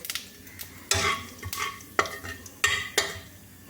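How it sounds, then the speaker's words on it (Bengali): Whole cumin seeds fry in hot oil while being stirred, giving a steady sizzle broken by about five sharp scraping strokes roughly half a second apart, close and without talk. "জিরেটা ভালো করে ভাজতে হবে"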